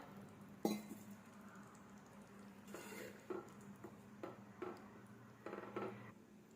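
A metal lid clinks down onto a pan of simmering tamarind-water dried anchovy thokku, followed by a few lighter clatters of cookware against a faint low hum.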